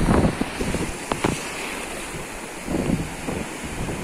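Surf washing onto the seashore at Calamba, Negros Oriental, a steady broadband wash with gusty wind buffeting the microphone and a few brief surges, no voices.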